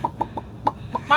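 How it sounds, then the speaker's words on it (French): Chickens clucking at close range in Finnish Lapland, with short separate clucks in an uneven rhythm and a brief louder squawk at the end, no talk. "Pourquoi il y a des poules ici?"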